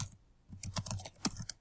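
Quick bursts of keystrokes on a computer keyboard while a search query is typed, close-up light clicks in an uneven, hurried rhythm with short pauses between.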